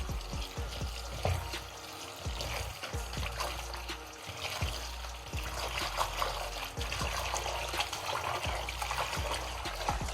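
Running tap water splashes over uziza leaves as they are washed by hand, a steady trickle broken by repeated handling knocks and splashes, with no talking.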